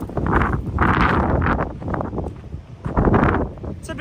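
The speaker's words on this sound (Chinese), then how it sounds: "过了没一会儿，这个风力啊马上就变大了。" Strong wind sweeps across a desert in Xinjiang on a cycling route toward Lop Nur, loud gusts surging and buffeting the microphone in uneven bursts.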